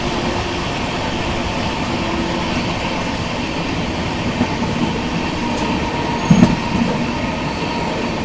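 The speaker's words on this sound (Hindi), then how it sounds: "कटिहार से चलकर अमृतसर को जाने वाली कटिहार अमृतसर अमरपाली एक्सप्रेस के साथ क्रॉसिंग हो रही है" Steady rumble of the Katihar–Amritsar Amrapali Express passing alongside during a crossing, with continuous wheel and carriage noise throughout and a brief louder clank near the end.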